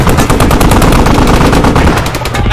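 Rapid machine gun fire in a first-person shooter game, a loud, continuous stream of closely spaced shots with no pauses, close and dominating everything else.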